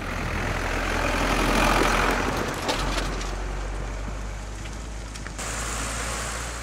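A tractor engine runs with a steady low rumble alongside a broad hissing wash, continuous at moderate loudness with no voices.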